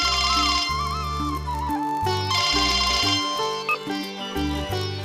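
A mobile phone ringtone playing a loud, melodic electronic tune with repeating tonal phrases and a bass line, continuous for several seconds with no voices over it.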